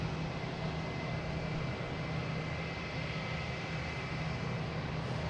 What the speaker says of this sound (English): We have a JetBlue A220 heading to Milwaukee. Flight 2229.